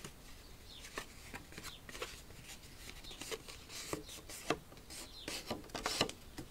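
Pencil redrawing a line on paper while making a mini album, short scratchy strokes repeated close by with light rubbing and tapping.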